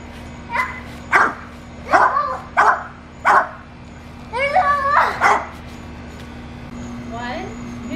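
A dog barks in short, sharp bursts several times over eight seconds, fairly close and loud, with a few higher yipping calls near the middle and a steady low hum underneath.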